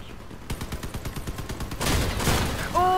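Rapid gunfire from vehicle weapons in the game Crossout, a fast rhythmic burst of shots followed by a heavier roar of fire and a few ringing electronic tones at the end.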